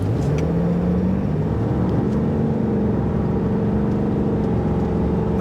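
A 2024 Ram 2500HD Rebel diesel pickup pulls away on a side road, its engine drone rising steadily in pitch as it accelerates, heard from inside the cab at a constant, fairly loud level with no talking.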